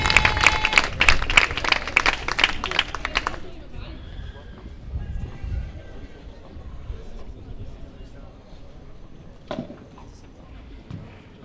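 Spectators applaud at a padel match, a burst of clapping lasting a few seconds before fading into quieter crowd murmur and scattered movement.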